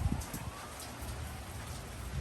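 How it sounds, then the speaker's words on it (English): Steady hiss of rain falling on a garden on a wet Los Angeles day, a dense even wash of drops with a few closer patters, soft and continuous. "And some raindrops."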